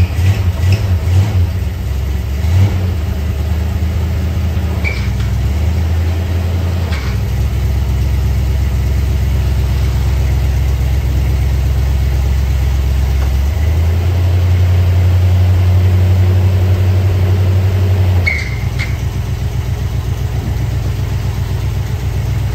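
A 1966 Ford Mustang GT, parked for ten years, runs with a steady, rumbling V8 idle close by, the pitch shifting a few times as the engine load changes while the car is tested moving forward and back.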